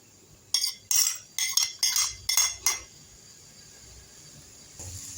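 Chopped onion for spinach dropped into a pan in a home kitchen, a run of about seven sharp clinking, rattling bursts close by, then a quiet stretch and a soft sizzle near the end.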